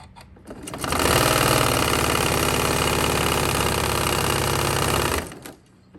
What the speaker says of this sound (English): we're going to just sew this with 1/4 inch seam allowance